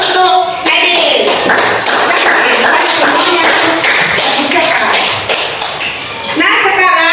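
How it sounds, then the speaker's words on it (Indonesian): A fourth-grade classroom gives a student a round of applause, many small hands clapping in a dense, lively patter for several seconds, with children's voices mixed in. "Beri aplaus untuk Nadine."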